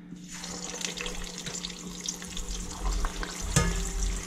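Pork carnitas already cooked, dropped into oil at 350 degrees to crisp, give a steady hissing sizzle with a low rumble beneath, close and fairly quiet, with no talking.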